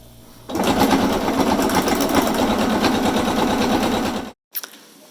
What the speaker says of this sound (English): I'm going to use the edge of my presser foot, and I'm going to sew this whole thing